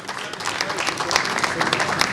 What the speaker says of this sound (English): please give him a hand clap